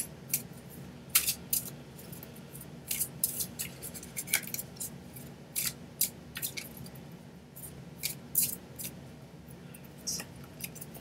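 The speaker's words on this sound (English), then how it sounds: "You have to watch me shuffle one more time." A deck of cards is shuffled close by, giving repeated crisp riffling flutters and taps in short bursts over a quiet room tone.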